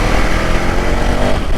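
A KTM Duke Gen3 motorcycle engine runs loud and close while the bike is ridden hard over a wet track, its steady, dense roar holding without a break.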